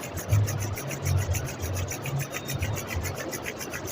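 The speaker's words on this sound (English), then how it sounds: "Rub your palm." Palms rub briskly together in a steady back-and-forth rhythm during a meditation exercise, a close, continuous dry swishing with no talk.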